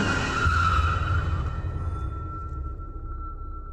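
A car skids with a loud tire squeal that fades into a lingering high whine, part of a video game trailer scene where a person is run down, with low rumbling underneath throughout.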